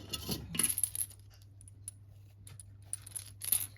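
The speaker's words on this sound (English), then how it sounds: "now I need to roll the dice" Dice are rolled for a paper budget game, giving a few bright clattering rattles at the start, then quiet, then another brief clatter near the end, close and crisp.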